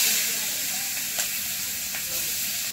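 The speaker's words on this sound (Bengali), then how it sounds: "পেঁয়াজ তো ভাজতে বেশি সময় লাগে, সেই জন্য পেঁয়াজ ভাজার সময় উনানের আঁচ একটু বেশি দেব" Chopped onions sizzling in hot oil in a wok over a high flame: a steady, close, broadband hiss with a couple of faint clicks and no talk.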